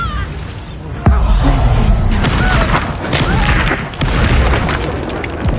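A Bombarda spell explodes in the Hogwarts Legacy video game. A sharp, heavy boom lands under a dense bed of combat noise, followed by rumbling crashes, with another strong thump a few seconds later.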